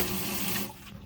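Water runs from a tap into a pot or sink while fish is cooked Korean-style, a steady close splash and pour that thins out near the end.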